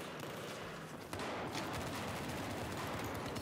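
Rapid automatic Glock 18 pistol fire in Battlefield 4 rattles in a dense, continuous burst, loud and sustained after a brief dip in level, with no talking.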